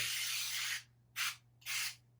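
Cooking oil spray hisses into bowls in three close, steady bursts: one long blast, then two shorter ones after brief pauses.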